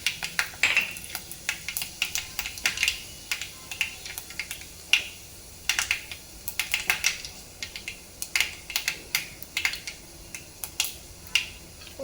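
Mustard seeds, cumin, fenugreek and dried red chillies frying in hot oil for a Telugu okra pulusu, crackling and popping in quick, irregular ticks that are close and bright, with no voices.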